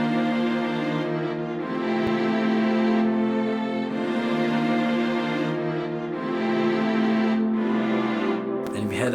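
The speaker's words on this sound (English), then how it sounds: "And then when you hear everything played together, the beat should sound like this." A complete hip-hop beat, with sustained string and synth chords over a low bass line, full and continuous throughout and ending on a brief bright burst, with no talking.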